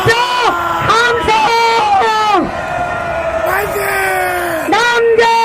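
A large crowd at a presidential campaign rally at COEX shouts and cheers in loud, rhythmic bursts of voices. The surges keep coming close together, with brief gaps between the chants.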